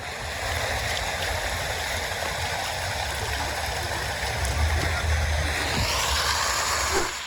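Water runs steadily from public drinking fountains in Yerevan, a continuous close splashing hiss that holds even and unbroken throughout.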